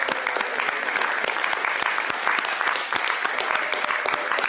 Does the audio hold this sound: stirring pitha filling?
no